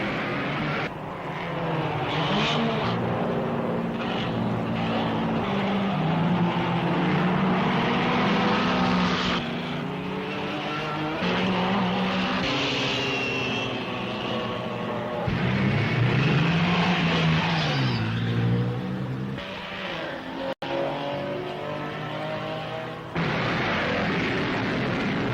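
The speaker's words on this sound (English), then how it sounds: "there is no distinction of sex when a powerful racing car goes humming round the broad track" Racing cars lapping the broad Brooklands track, a loud continuous engine hum whose pitch rises and falls as they pass, with no talking.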